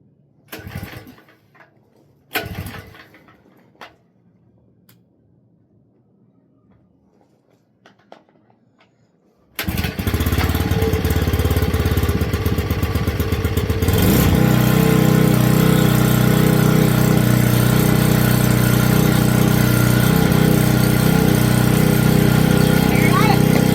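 Portable generator pulled to start with a couple of sputtering attempts, then catching and roaring into a steady, loud running drone that fills the rest of the clip, with brief speech early on.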